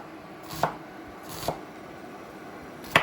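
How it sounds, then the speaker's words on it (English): A knife thinly slicing half an onion on a board, three separate crisp, close chops spaced about a second apart, with quiet background between them. "I'm going to slice our onion."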